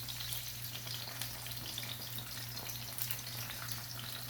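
Chicken pieces fry in hot oil for a chilli garlic chicken dish, a steady, dense crackling sizzle at moderate distance with no talk over it.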